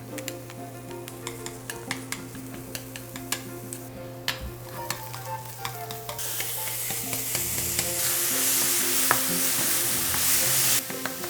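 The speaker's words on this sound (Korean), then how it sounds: "이렇게 지금 팬이 예열된 상태에서 먼저 버섯을 먼저 볶을 거예요" Mushrooms stir-fry in a preheated pan, with close clicks and scrapes of a utensil over a soft sizzle that swells into a louder, denser hiss in the second half; nobody speaks.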